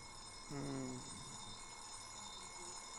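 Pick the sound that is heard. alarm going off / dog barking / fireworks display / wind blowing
alarm going off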